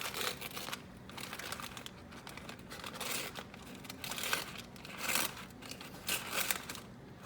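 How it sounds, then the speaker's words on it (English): Crinkling and tearing of a plastic packet of cooked salmon being cut open with a knife or scissors, close by, in irregular rustling bursts with no voices. "Just get a knife or scissors and just split it open."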